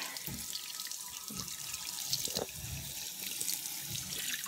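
Tap water runs steadily into a sink, wetting a bar of West African black soap, a soft continuous splashing stream with faint irregular gurgles, fairly quiet and close, with no voices.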